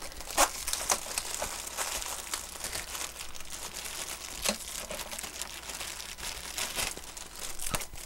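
Tape crackles and tears off the cardboard box of a new Lexmark X5495 fax, copier, scanner and printer during an unboxing, a close, steady crinkling with a few sharper rips, and no talking.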